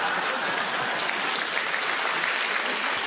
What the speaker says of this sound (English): The audience applauded.